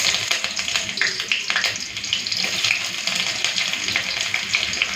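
Chopped onion and green chili sizzle steadily in hot mustard oil in a heated wok, a close, even crackle with faint stirring scrapes and no talking.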